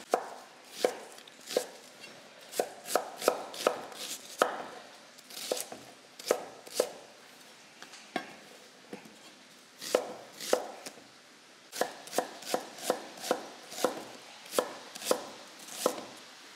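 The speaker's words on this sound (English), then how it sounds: "For the baked ziti, we need 2 onions diced, and I've already got onions peeled here." A knife dices peeled onions on a cutting board during freezer-meal prep for baked ziti, giving quick close chops in uneven bursts and runs with short pauses between, loud and clear with no talking.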